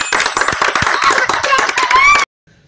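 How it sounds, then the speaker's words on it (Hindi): A burst of clapping, rapid and dense, rings out loudly over excited voices and then cuts off abruptly into silence. "ताली बजाओ"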